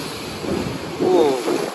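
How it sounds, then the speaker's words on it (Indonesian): Sea waves roll and wash at Merak harbour during bad weather, a moderately loud surge of water mixed with gusty wind rumble, swelling twice over a short stretch. "Ombak ya."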